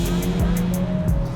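A 2024 Acura Integra Type S with a 2-liter engine drives along on summer tires in cold weather, its engine droning steadily up close with a rising note as it revs.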